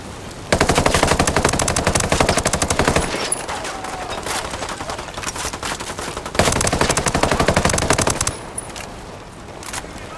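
Automatic gunfire in the video game Operation Archangel, set during a breach of a chemical institute. Two long, loud bursts of rapid machine-gun fire are separated by a stretch of quieter, scattered shots.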